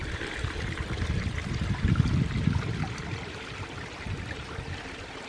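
A forest creek in Bankhead National Forest, Alabama, runs over small rocks in a continuous burbling wash, moderately close, swelling slightly midway with no voices.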